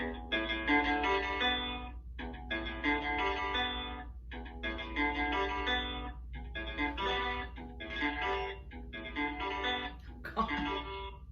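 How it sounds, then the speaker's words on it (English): Guitar strings plucked in a steady sequence, two plucks per string from the sixth string down to the second, bright notes in short bursts separated by brief pauses, played close and clear. "2 plucks per string, and then I'll play 1 pluck on the 2nd string"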